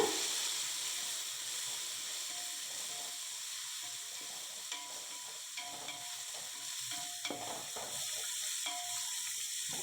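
Handfuls of mint and coriander leaves sizzle and hiss in a hot pan for chicken biryani, with a steady close frying sound and occasional light stirring scrapes, no talking.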